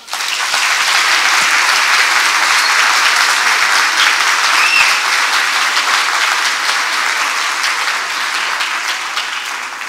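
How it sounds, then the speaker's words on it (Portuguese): A church congregation at a thanksgiving service applauds steadily, producing a dense, even wash of many hands clapping that holds at full strength for about ten seconds. "Aplauda o Senhor."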